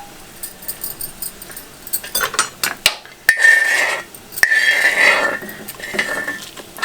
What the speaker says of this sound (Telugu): దీంట్లోనే మిరపకాయలు కూడా దంచుకుంటాం